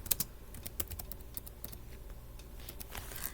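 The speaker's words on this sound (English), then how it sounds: "you can at least enjoy the typing sounds" Close computer keyboard typing in irregular bursts of crisp key clicks, some louder strikes standing out, over a quiet room background in a sewing session.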